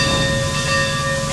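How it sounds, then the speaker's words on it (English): A 1920 Baldwin steam locomotive in Cuba gives off a loud, steady hiss of steam with a sustained whistle-like tone running throughout. "This proves to be a Baldwin loco from 1920."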